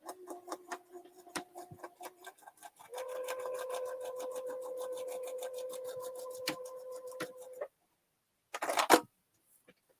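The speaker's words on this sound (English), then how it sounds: "And then stitch along that line." A sewing machine stitches a foundation paper pieced quilt block in quick, even runs of clicking stitches, pausing briefly before a final short burst, with no talking over it.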